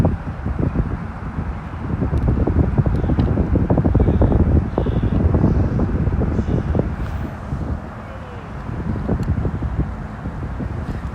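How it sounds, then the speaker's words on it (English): Wind blows across a microphone outdoors, producing a continuous low, rumbling buffet that swells and eases over several seconds, with no speech. "I don't know how difficult this wind is for you to hear me"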